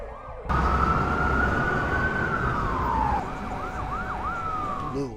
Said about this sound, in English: Blue lights, sirens,